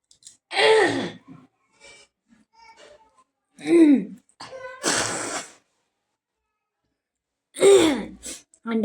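Several harsh, breathy coughs come in separate bursts, close to the microphone, with quiet pauses between them.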